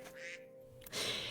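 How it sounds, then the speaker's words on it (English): A duck in the Minecraft video game gives a couple of short, nasal quacks, quiet and clear with a brief pause between calls. "Quack"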